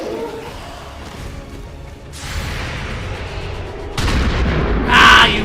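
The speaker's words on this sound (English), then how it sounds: "The shockwave of that explosion reverberated throughout most of the city." Explosion shockwaves in the video game XCOM 2: a deep rumbling bed of booms that swells around two seconds in, then a sharper, louder blast near four seconds followed by a bright, crackling burst at the end.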